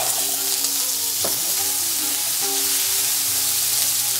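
Dried red chili, whole cumin seeds and potato frying in hot oil, a loud, continuous close sizzle and sputter with a utensil knock partway through.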